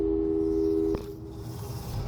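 Telephone busy signal in the video game Aperture Superliminal: a steady electronic tone that holds clearly and then cuts off abruptly about halfway, leaving low background hum with no talk.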